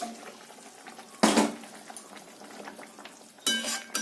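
Hilsa fish curry with turmeric and slit green chillies simmers in a pot, a quiet bubbling background cut by two loud bursts of watery rushing, likely the lid lifting or liquid being stirred, with no speech.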